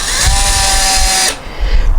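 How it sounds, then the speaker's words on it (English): A power drill drives an exterior screw into a wooden raised bed planter, giving a loud, steady high whine for about a second and a quarter before it stops abruptly, followed by quieter handling sounds. "screw it in,"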